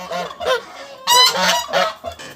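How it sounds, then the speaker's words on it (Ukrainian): Geese honk in a run of loud, close, nasal calls on a farmyard, several overlapping bursts with short gaps and no talk. "Гуси йдуть? А, давай гусей."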